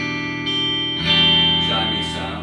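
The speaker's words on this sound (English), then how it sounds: "And the reverb, you get kind of a neat hollow," A Carr Skylark guitar amp with reverb plays sustained electric guitar chords with a hollow, chimey tone, ringing reverb tails and a new strum layered in as earlier notes decay.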